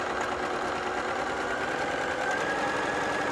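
A sewing machine stitches thin heirloom fabric, a steady fast mechanical whir and rattle that holds unbroken and fairly quiet, no voices.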